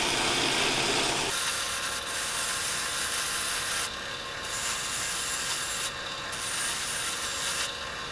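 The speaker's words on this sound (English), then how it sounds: "it's just like a shredded sandpaper stacked up here for your drill press" A flap sander spun in a drill press sands wooden dowels from an antique laundry rack, giving a loud, steady abrasive whirring rub that runs without a break apart from a few brief dips. No one speaks.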